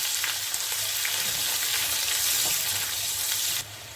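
Onion and dried red chillies frying in hot oil, a dense, bright, close sizzle that holds steady, then drops a little in level near the end, with no talk.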